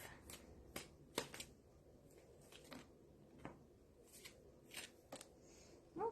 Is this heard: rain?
no